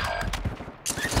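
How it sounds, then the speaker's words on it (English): Shotgun fire in a Call of Duty match: a quick run of close, heavy blasts amid busy game noise, with one sharp shot standing out near the end. "He's pushing me. With a fucking shotgun."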